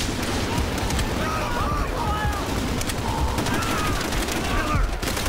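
Machine gun and rifle fire in the World War 2 shooter Call of Duty: World at War, dense overlapping bursts and shots rattling continuously with game voices talking over the battle noise.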